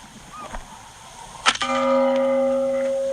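A steel gong target struck by supersonic .223 rifle rounds, played back through a phone: one sharp metallic clang rings out and sustains as a long, steady bell-like tone with no talk over it.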